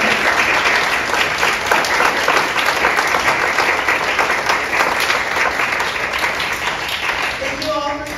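Sustained audience applause for interns at a company event, dense and steady throughout, with a few faint voices mixed in under the clapping.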